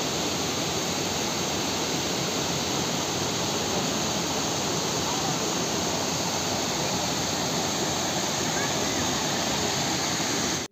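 Steady, loud roar of a waterfall deep in dense forest in Jim Corbett, a continuous broadband rush of falling water holding unchanged for the whole stretch with no other sounds standing out.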